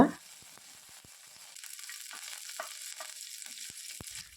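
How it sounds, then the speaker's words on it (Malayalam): Quiet, continuous sizzling of dried red chilies and curry leaves frying in hot oil, with scattered pops and crackles and no talking. "ഒരു മൂന്ന് ഉണക്കമുളക് രണ്ടായിട്ട് നുറുക്കിയത് ഇട്ട് കൊടുക്കുക ഒപ്പം തന്നെ കുറച്ച് കറിവേപ്പിലയും കൂടി ഇട്ട് ജസ്റ്റ് ഒന്ന് മൂപ്പിക്കുക"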